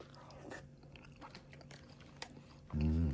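Crispy garlic flakes with a soy-flavoured sauce, from a Thai convenience-store dish, crunch in close, sharp bites and chews at the mouth, followed by a short burst of voice at the end.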